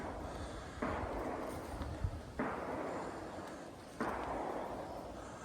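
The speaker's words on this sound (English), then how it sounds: "we're right by a gun club, so that's what you hear in the background there" Gunfire from a nearby gun club beside a railroad line in Emmaus, Pennsylvania: three muffled booming shots spaced a couple of seconds apart, each leaving a broad rumbling decay, over steady outdoor background noise with no talk.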